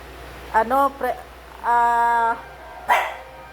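A dog barks close by: a quick pair of yips, one longer drawn-out bark, then a final short bark, all loud and near.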